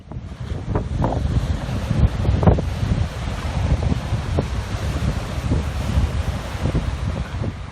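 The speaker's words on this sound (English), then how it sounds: "with very, very heavy winds, it was unfishable" Very heavy wind roars steadily across the beach at Dromana on Victoria's Mornington Peninsula, buffeting the microphone loudly over crashing surf, with no talk.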